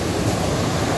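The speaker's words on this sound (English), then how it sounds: "You can hear the sound of the waterfall." Waterfall at Cascata delle Marmore park in Italy, a steady, dense roar of rushing water that fills the whole second evenly with no pauses and no voices.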